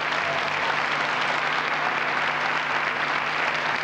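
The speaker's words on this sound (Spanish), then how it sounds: "Y pide aplausos" Audience at a live comedy show applauding, a dense, even wall of clapping heard at steady loudness throughout with no speech on top.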